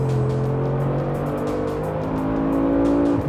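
A 2018 Mercedes-AMG G 63 with its 4-litre twin-turbo V8 revs loudly and steadily up, deep engine roar rising in pitch, close and continuous with no talk.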